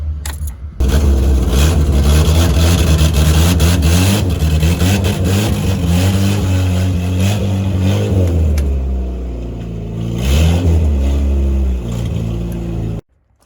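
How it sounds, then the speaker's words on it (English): A big turbocharged 6.0-liter LS V8 engine in a van starts up close and loud, idling with a deep rumble, then revs up twice before cutting off abruptly. "Revs up just fine. No clicks, no ticks."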